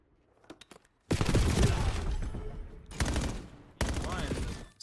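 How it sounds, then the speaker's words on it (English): Rapid automatic gunfire from a Call of Duty match, bullets fired through walls in bursts: a loud sustained volley, a short pause, then two more clipped bursts, with faint game sounds before. "We got a couple of wall bangs going in."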